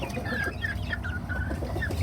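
Several chickens, including three roosters, cluck and murmur continuously at close range, with higher rooster-like calls rising over a steady barnyard hum.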